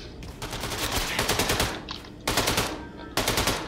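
Rapid automatic rifle fire from the shooter Wolfenstein II, loud and close, in repeated bursts separated by brief pauses, with heavy clattering reports and no talking.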